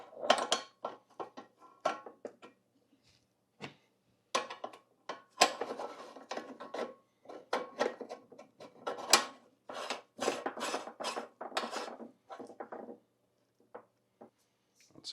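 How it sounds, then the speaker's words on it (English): Metal parts of a meat grinder being handled as its grinding die is swapped, a series of close clanks, scrapes and rubbing knocks in irregular bursts with short pauses, no talking. "So let's go ahead and change this grinder die out."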